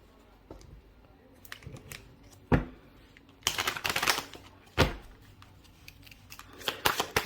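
Oracle cards from the Numinous deck are handled, shuffled and pulled, producing close, crisp snapping and riffling bursts at irregular intervals, with faint room noise between them.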